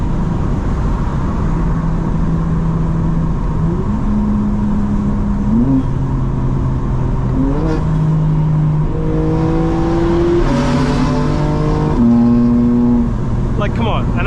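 A 2024 G82 BMW M4 Competition xDrive runs from inside the cabin, its engine note climbing and dropping in steps through quick, clean gear shifts, steady and fairly loud, with a person talking over it.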